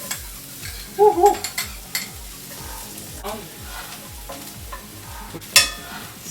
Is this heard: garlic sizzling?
yes